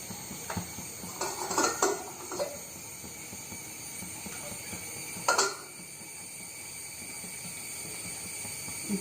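A spoon stirring dosa batter mixed with coconut oil and salt in a metal pot, light scraping clinks and taps at a moderate distance over a steady background hum, with no voices.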